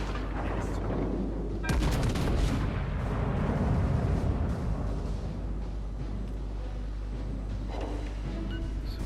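Heavy naval gunfire on the battleship Iowa in a warship game: dense, continuous booming and rumbling salvos that swell louder around the middle, with a faint voice running underneath.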